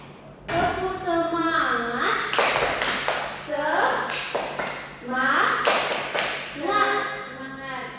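Children in a special-education classroom perform a rhythmic 'tepuk semangat' clapping chant, sharp claps landing in a steady beat between loud, close sung and spoken calls from the group and teacher.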